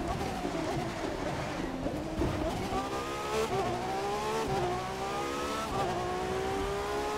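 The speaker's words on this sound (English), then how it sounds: "I think it just sounds so good. It sounds like a proper race car." A Ferrari FXX K race car engine revs and accelerates in The Crew 2 racing game, a loud continuous high-pitched whine rising and falling through gear changes, with a faint tire squeal.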